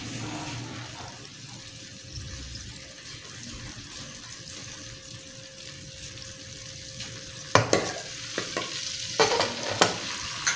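Onions frying in ghee in a pot for mutton curry give a low, steady sizzle with a faint hum, then louder clattering stirs and scrapes near the end, close by and without speech.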